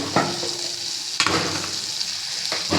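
Green chillies and curry leaves fry in hot oil in a pan, a loud continuous sizzle with three sharp bursts as pieces hit the oil or get stirred.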